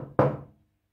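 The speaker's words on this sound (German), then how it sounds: "Die Zicklein hören das Klopfen." A single solid knock on a door, short and close, lands once and quickly dies away in an otherwise quiet space.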